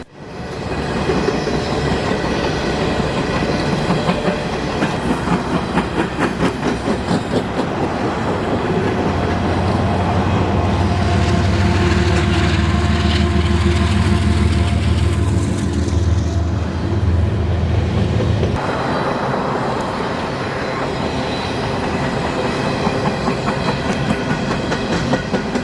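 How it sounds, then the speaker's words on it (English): An empty Canadian Pacific coal train passes continuously, a loud steady roar of rolling freight cars with rhythmic clickety-clack of wheels over rail joints and a deep rumble swelling in the middle. "you could see that the train was empty, heading back to Sparwood to get more coal for the coast"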